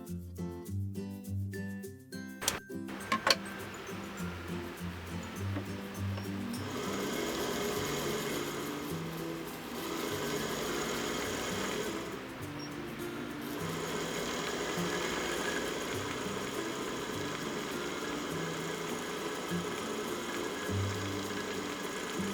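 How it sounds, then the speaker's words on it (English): A vintage Singer 66 sewing machine, run by its foot pedal, winds a bobbin with a steady mechanical whir and hum that lasts most of the stretch after some brief clicks at the start. "In order to wind the bobbin, just press the pedal."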